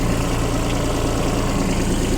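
A Kubota Aste A-14 four-wheel-drive three-cylinder diesel tractor engine idles close by, a steady low throbbing rumble with even, unbroken pulses.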